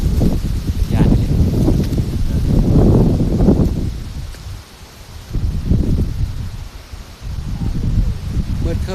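Strong storm wind sweeps through a forest, gusting loud and rustling leaves in broad surges that rise and ease, with roaring microphone buffeting close up.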